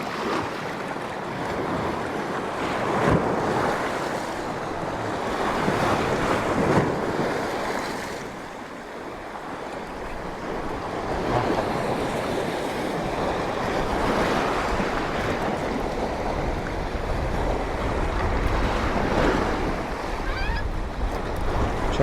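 Steady wind gusting along a rocky shoreline where someone is lure fishing for bass, with surf washing in beneath it; the blowing rises and falls continuously for the whole stretch, close to the microphone and without talk.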